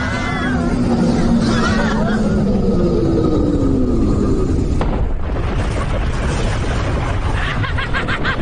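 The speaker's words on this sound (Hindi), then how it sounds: "देखा हमारी तेज आवाज वाली तोप की ताकत को।" A cartoon cannon fires in a Doraemon movie, a sudden loud blast that rolls into a rumbling, noisy explosion after earlier tonal sounds and voices.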